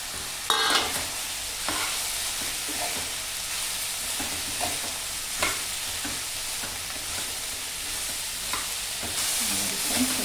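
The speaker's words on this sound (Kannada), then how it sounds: "ಸೋರೆಕಾಯಿನ ಎಣ್ಣೆಯಲ್ಲಿ ಎರಡು ನಿಮಿಷ ಬಾಡಿಸ್ಕೊಂಡ್ರೆ ಸಾಕು" Chopped bottle gourd sautés in hot oil in a pan alongside tomato for gojju, a steady soft sizzle broken by periodic scraping stirs and clinks of the spatula, close and with no talk.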